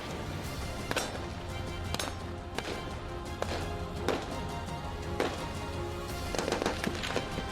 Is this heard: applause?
no